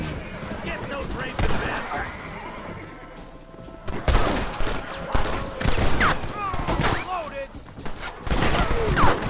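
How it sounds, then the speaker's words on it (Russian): Gunfire in Red Dead Redemption: scattered sharp shots ring out amid loud horse whinnies and clopping hooves in a busy outdoor game scene. "Ай, блин, больно стреляют"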